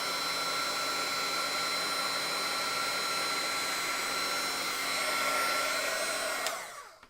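A heat tool blows steadily as it melts gold embossing powder on a handmade Christmas craft, a constant whirring hiss with a high whine that runs for about six seconds before cutting off.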